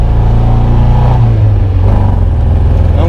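A classic MG BGT with rear-wheel drive roars hard as it accelerates, a loud, close, continuous engine note climbing in pitch and filling the car with sound, with no talking over it.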